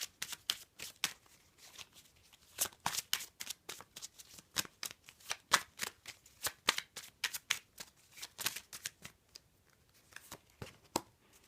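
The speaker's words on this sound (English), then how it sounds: "I just realized I should be shuffling for you" Playing cards shuffled again and again, a quick run of crisp riffling bursts with short pauses between them, close up and with no voices.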